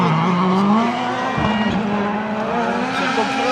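Toyota WRC rally car driving through a corner at Rally Catalonia, a sustained loud engine note with a shifting pitch and brief tyre-scrub transients, while commentators talk underneath.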